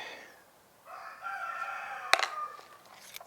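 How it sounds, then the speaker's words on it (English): A rooster crows in the background, a faint, drawn-out call in a quiet outdoor setting, followed by a brief sharp knock. "I can hear our rooster in the background."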